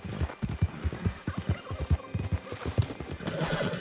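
A horse gallops in Red Dead Redemption 2 with rapid, rhythmic hoofbeats that stay close and prominent, briefly easing before picking up again.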